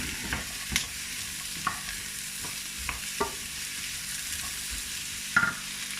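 Onions sizzle steadily as they are stir-fried in a hot pan, with occasional scrapes and clinks of a utensil stirring them.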